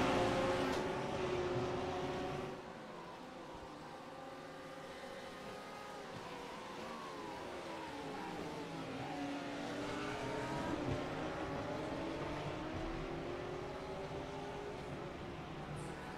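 Porsche and BMW GT3 race cars at Motegi, engines droning and whining together as they pass and accelerate through a turn, a steady loud roar with shifting pitch and no voices.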